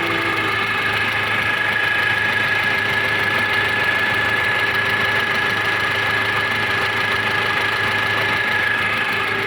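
A Nissan TD27 diesel engine idles steadily in a 2.5-ton forklift, a continuous close, even rumble with a faint knocking rhythm and no pauses or voices.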